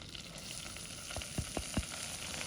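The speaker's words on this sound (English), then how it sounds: "Now we're just going to cook our flour until this goes into a ball." Flour cooks in melted butter in a pan on a stove at medium heat, giving a soft continuous sizzle with three distinct scraping stir strokes near the middle, close and moderately quiet, with no voices.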